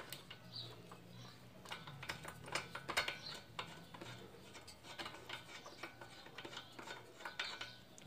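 Nut being loosened and removed from the rear sprocket of a Honda CG 125/150 motorcycle during a chain and sprocket kit change, a quiet series of irregular metallic clicks and ratcheting taps, close up and without talk.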